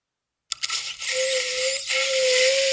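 An electric toothbrush played as an instrument starts with a few quick clicks, then settles into a close, loud, steady high-pitched buzzing whine that wavers slightly in pitch, with no talking.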